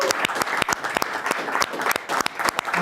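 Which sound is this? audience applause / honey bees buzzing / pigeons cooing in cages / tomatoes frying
audience applause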